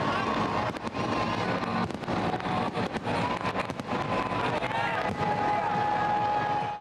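New Year fireworks over Bahria Town, Lahore, a rapid crackling barrage of repeated sharp bangs and pops amid a crowd's constant roar, loud and dense across the whole stretch.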